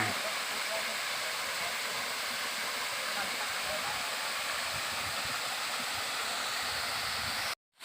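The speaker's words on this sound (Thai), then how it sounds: "ไหลเป็นน้ำตกมา" Steady broadband rush of water spilling down as a small waterfall, continuous and fairly near, with no talk over it until it cuts off abruptly at the end.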